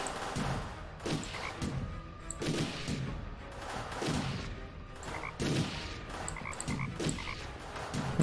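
A toad croaking in the Deponia video game, a series of repeated rough croaks at fairly even intervals, close and moderately loud over a faint background.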